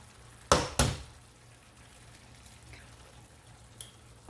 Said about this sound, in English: I'm going to create 2 little divots and I'm going to crack our eggs in there.